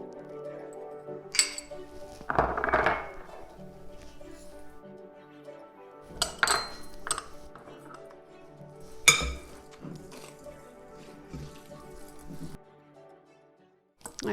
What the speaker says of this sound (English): we just put it in the bowl and stir it all up.